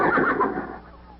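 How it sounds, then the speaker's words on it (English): A single horse neigh, loud and close, trailing off into a fading whinny within about a second. "Sounded like a horse."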